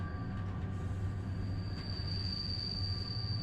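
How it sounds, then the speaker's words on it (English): Train brakes squeal with a steady, piercing high whine over the low rumble of rail cars rolling between northern Italy and Switzerland, continuous and close throughout. "The brake noise is pretty horrible though."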